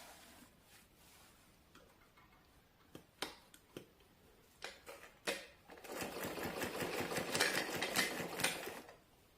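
A sewing machine stitches a saree lace strip, starting with a few separate clicks and short bursts, then running in a steady, fairly faint mechanical whir for the last few seconds.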